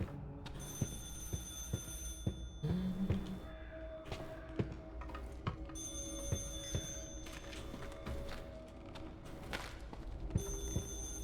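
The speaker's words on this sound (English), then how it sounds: "You hate the sound of a ringing phone." Telephone ringing in the horror video game Stygian Outer Gods, a shrill electronic bell tone repeating in bursts with short pauses, over low ambient rumble and scattered clicks and knocks.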